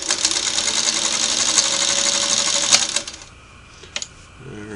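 A Singer Model 301A sewing machine runs steadily for about three seconds with a rapid, even mechanical clatter, then stops, leaving a few faint clicks.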